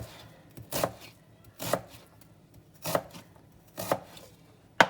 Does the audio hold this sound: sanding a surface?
no